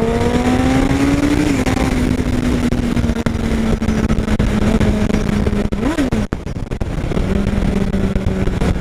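A loud Honda CBR 1000 RR Fireblade sport motorcycle engine revs hard at Interlagos, its pitch climbing and dipping as the throttle is worked, continuous and close.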